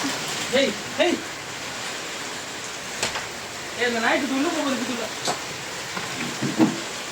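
Heavy rain falling on a residential neighborhood during a downpour, a steady hiss of drops throughout, with short bursts of nearby speech breaking in at intervals.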